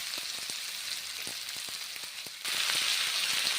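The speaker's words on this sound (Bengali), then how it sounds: "মশলা ছেড়ে দিলাম, নেড়ে চেড়ে নিচ্ছি, মশলা কষে নিচ্ছি" Ground spice paste frying in a pan for a pumpkin curry, a dense steady sizzle with soft rhythmic stirring scrapes, jumping suddenly louder near the end.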